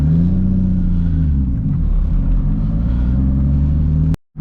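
Straight-piped Toyota Supra cruising on the road, a loud, steady low exhaust drone with rising and falling engine tone, close and continuous before cutting off abruptly at the end.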